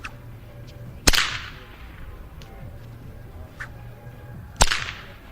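A long blue whip, over 12 feet, cracks sharply twice in an outdoor plaza, each loud snap followed by a short slap-back echo off nearby buildings and a fading reverberant tail, with quieter ambient noise in between.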